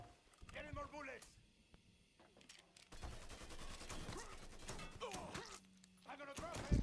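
Gunfire crackles in Mafia III: scattered shots and quick bursts come in clusters, fairly close, mixed with game sounds and a low hum. Talk runs through part of it.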